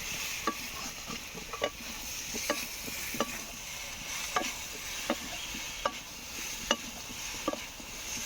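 Dried spice powder stirred in a cooking pan for a mankochu (giant taro) dish, giving regular scraping strokes about once a second over a faint steady sizzle, close and moderately quiet.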